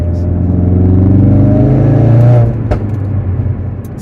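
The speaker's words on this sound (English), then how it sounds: "It's got a really nice throaty noise to it, as you just heard." A Ford Focus RS MK3 with Hendy HP500 engine and exhaust revs loud and close, a sustained throaty rising drone that cuts off sharply, followed by a crack and a lower idle.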